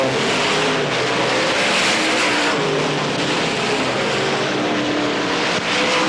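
A dirt-track race car roars past at Pennsboro Speedway during the 1990 Hillbilly 100, a loud, continuous engine drone that fills the whole span with steady broadband noise and no voices.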